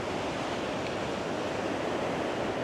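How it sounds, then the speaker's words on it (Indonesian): Big ocean waves breaking on a beach at Gunung Kombang, a steady, loud, broadband roar of surf filling the whole stretch with no voices. "Walaupun ombaknya besar ya."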